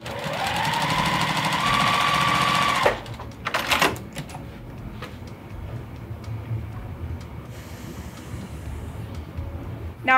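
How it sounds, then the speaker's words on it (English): A sewing machine stitches a long seam down a quilted table runner strip, running steadily and loudly for about three seconds before stopping, followed by quieter handling noises and faint clatter. "I'm going to sew a seam all the way down the strip"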